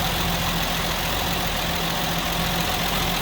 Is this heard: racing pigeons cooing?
no